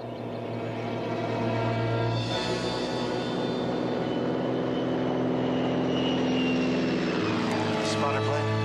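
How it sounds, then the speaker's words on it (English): A propeller spotter plane drones overhead in a 1976 TV drama scene, a loud, steady engine hum that swells slightly and holds throughout, with voices over it. "Spotter plane? Bloody likely."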